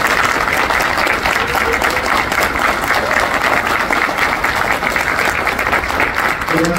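Loud, continuous audience applause after a herpetology lecture at Butantan, a dense, even crowd clapping up close that lasts throughout, with faint voices mixed in.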